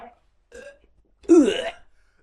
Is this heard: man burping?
yes